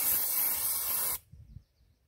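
Batiste dry shampoo sprayed onto a section of hair: one steady, close aerosol hiss lasting about a second, then cutting off abruptly into near silence with faint handling noise.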